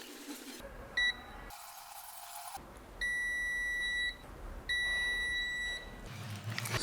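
A digital multimeter in continuity mode sounds repeated electronic beeps while pins of an XLR female-to-female cable are tested: a short chirp, then two sustained steady tones of about a second each, clear and close in a quiet room.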